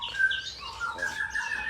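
Bright chirps and warbling trills from a crested Yorkshire canary kept at an Indonesian bird breeder's, fairly close and lively, with faint background noise and no talk.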